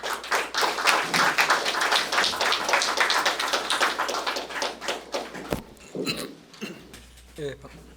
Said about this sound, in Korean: 나오시면은 큰 박수로 한번 좀 보내주시기 바랍니다